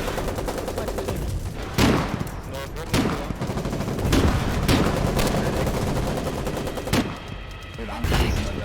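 Enemy artillery and gunfire in the video game Foxhole, with sharp gunshots and heavy booming blasts breaking out every second or so over a constant din of battle, while voices talk beneath.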